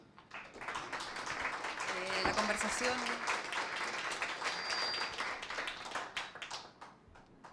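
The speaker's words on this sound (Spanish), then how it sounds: "vamos a agradecer primero a los expositores con un aplauso" Broad, dense applause from a crowd fills the room for several seconds, steady then tapering, with a voice speaking faintly beneath it.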